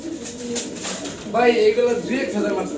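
Lahore blue bar fancy pigeons coo close by, a soft throaty burble swelling through the middle of the moment while people talk nearby.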